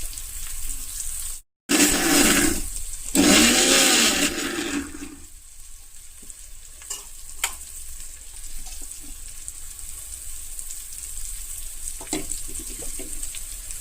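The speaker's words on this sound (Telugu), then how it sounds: "దాన్ని నేను జార్లో వేసేసుకొని మిక్సీ పట్టుకుంటున్నాను" Mixer grinder jar pulsing boiled onion, green chilli and gongura leaves for a chutney: three loud whirring bursts close up in the first five seconds, then quieter kitchen noise with a few faint clicks and knocks.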